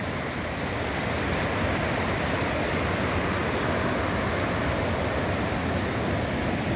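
Steady roar of rushing water from a waterfall over rock in Mato Grosso, Brazil, a constant broadband wash with no breaks or voices.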